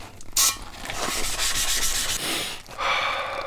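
A sponge scrubs a small front wheel soaked with brake cleaner. Close, gritty rubbing strokes run back and forth continuously, with a short sharper burst near the start and a brief pause before the scrubbing resumes.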